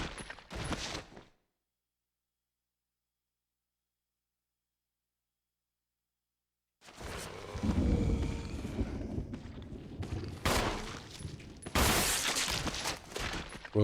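Gunfire in Resident Evil Remake, played on hard mode against a tough enemy, comes in dense bursts after a long silent gap, with loud sharp reports layered over rumbling game noise.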